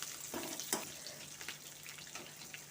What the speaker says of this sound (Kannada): ಶುಂಠಿ ಹಾಕಿ ಫ್ರೈ ಮಾಡ್ಕೊಳ್ಬೇಕು ಹಸಿಮೆಣಸು ಮತ್ತು ಶುಂಠಿ ನೋಡಿ